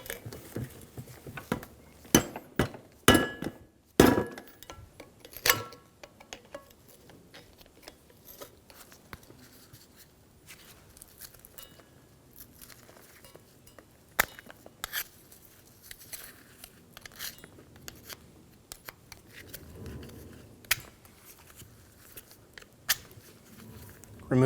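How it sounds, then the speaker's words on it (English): A mallet taps the dust seal off an old steering knuckle from a 2005-2015 Toyota Tacoma, with sharp metallic knocks in loose clusters. Quieter clinks and handling noises sit between bursts of blows. "a mallet to get the dust seal started. Continue going around, slowly working the seal up and out of the old knuckle"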